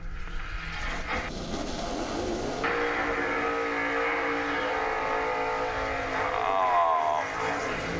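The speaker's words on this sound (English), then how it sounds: "First thing he does is goes out and does a big smoky burnout." Drag race car on the Summit Racing Midwest Drags strip doing a smoky burnout, a loud sustained engine roar with rising revs and tire-spin howl that holds steady, close and continuous for several seconds.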